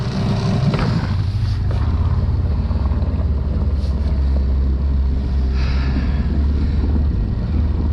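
A small boat runs on a Sharmax SM9.9 HS outboard motor on a river, giving a loud, continuous low engine drone mixed with steady wind buffeting on the microphone.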